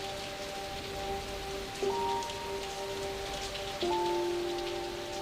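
Steady rain hisses throughout, with soft sustained musical tones ringing over it.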